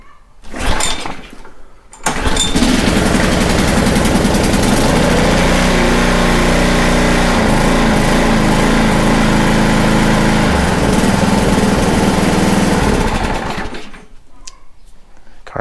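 A gasoline pressure washer engine runs at lowered throttle, making a loud, close, buzzing drone for about eleven seconds that starts and stops abruptly, with quieter moments before and after.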